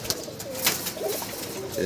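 Giribaz (high flyer) pigeons coo softly in a low, repeated burble over a steady background hum, with a faint rustle partway through, at a pigeon farm.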